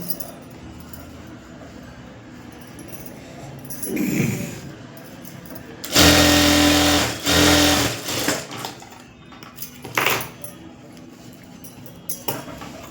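A sewing machine stitching a half-inch seam on an embroidered blouse: two close, loud whirring runs back to back, then a shorter burst, with fabric handling and clinks between.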